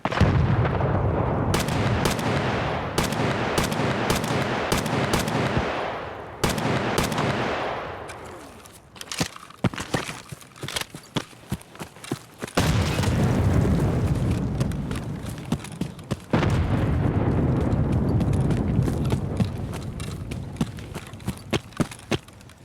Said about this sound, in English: Somebody's got a silenced Mosin.